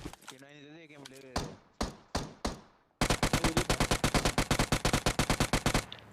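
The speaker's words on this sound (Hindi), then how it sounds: "मैंने साउंड की तरफ कॉपी करके फायर किया और भैया जी नॉक हो गए" Rapid automatic gunfire from a battle royale video game, loud and close, with a few single shots followed by a sustained burst of evenly spaced rounds; a voice speaks briefly at the start.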